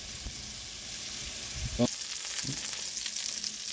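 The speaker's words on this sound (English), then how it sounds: "So each patty, I'm going to cook for 3 minutes each side." Salisbury steak patties frying in a pan, a steady hiss of sizzling fat throughout with a couple of short clanks and scrapes partway through, fairly close and moderately loud.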